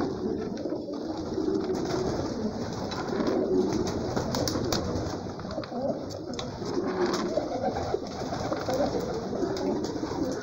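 Racing pigeons in a loft coo continuously, overlapping low throaty calls from many birds close by, with fluttering and rustling mixed in during cold weather.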